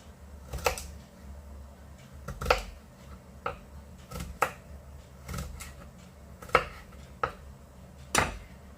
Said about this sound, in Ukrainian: Нарізаємо дрібненьку морку.